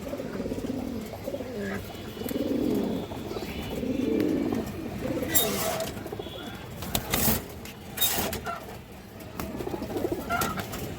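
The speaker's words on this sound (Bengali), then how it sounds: "এই যে দেখেন খুব সুন্দর একটা মাদি কৌতর" Pigeons coo in low, throaty rolls at close range, with a female pigeon among the flock, interspersed with wing flutters and clicking noises in a loft.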